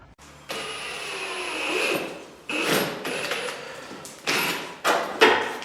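A power drill whirs steadily for a couple of seconds, then several shorter bursts of drilling follow, close and fairly loud with mechanical clunks, as it drills into the body of a new 2024 Polaris RZR XP 1000.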